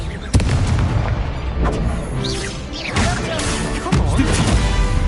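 Confringo blasting spells explode in the Hogwarts Legacy video game: several sharp booms and crashes with whooshing magic sounds, dense and loud throughout, layered over a busy battle soundscape.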